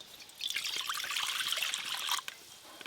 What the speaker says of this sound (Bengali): তার জন্য কড়াই জল দিয়ে দেবো।